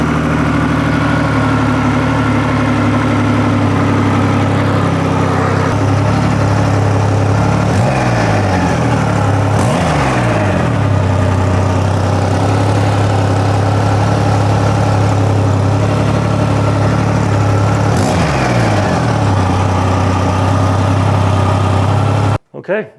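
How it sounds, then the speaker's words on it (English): A 2020 Triumph Rocket 3 GT motorcycle engine idles steadily on a rack with a low, even throb, exhaust from both sides, with a few brief blips of the throttle before it cuts off at the end. "So sounds nice, exhaust coming out both sides."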